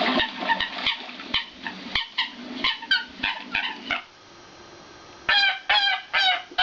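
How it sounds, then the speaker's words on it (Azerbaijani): A coot call played through an electronic hunting caller: a loud series of sharp, rapid yelping honks, a short pause, then more bursts, with a slightly tinny, speaker-like tone. "bu qaşqaldaq səsidir."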